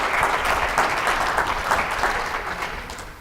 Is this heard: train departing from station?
no